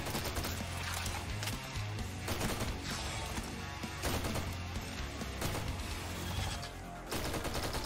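Dense, continuous gunfire from the video game Forgive Me Father 2, with rapid overlapping shots and crashes that stay loud throughout over a low droning background.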